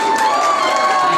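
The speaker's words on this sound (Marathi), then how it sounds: "पहिले त्यांच्यासाठी टाळ्या होत्या।" Audience applause for a guest at a women's club Valentine's Day DJ party, a brief dense burst of clapping from a crowd with cheering and a sustained tone over it.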